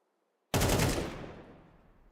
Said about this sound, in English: He's shooting the boxes right now